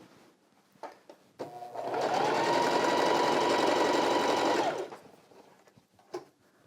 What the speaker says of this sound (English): I'll sew another line right next to it.